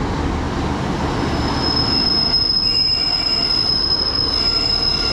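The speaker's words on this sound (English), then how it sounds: "arriving now is 150-265. It's going to be our train" A Class 150 diesel train, unit 150-265, pulls into a station in Devon with a loud, steady rumble and a sustained high wheel squeal, close and continuous throughout, with no talk.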